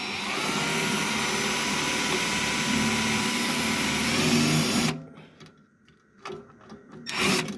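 Drill running steadily for about five seconds, a loud whirring grind with rubbing texture, then stopping abruptly, followed by a few short bursts and handling noises.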